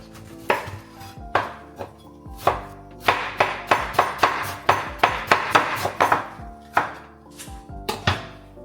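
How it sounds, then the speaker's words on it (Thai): A knife slices vegetables very finely on a cutting board to make fried spring rolls, a series of sharp, close chopping knocks, first spaced apart and then in quick rhythmic bursts, with no voices. "ก็พยายามหันให้ ฝอยที่สุดเนาะก็ได้ประมาณเนี้ย"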